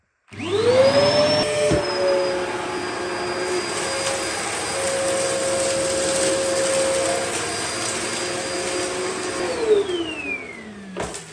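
Two Dyson vacuum cleaners, an original DC01 and a Gen5 Detect, run with steady motor whine, spinning up at the start and winding down near the end, loud and close with no talk.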